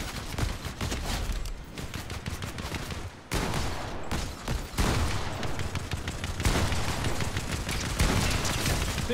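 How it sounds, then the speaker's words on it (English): Dense, continuous gunfire from several weapons firing at once in Fortnite, loud and close with overlapping rapid shots and a brief break near the middle. "Synchronized shooting."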